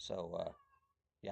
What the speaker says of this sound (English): Sorry if you hear the cat in the background.